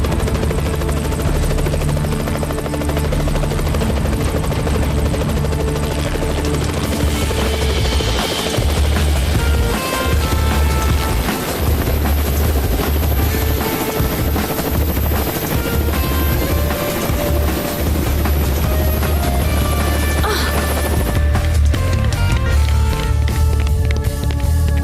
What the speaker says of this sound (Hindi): ये आवाज सुन रहे हो? हेलीकॉप्टर की आवाज।